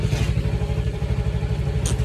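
Motorcycle engine running close by, a loud, steady low throbbing putter with clattering mechanical texture throughout, no voices.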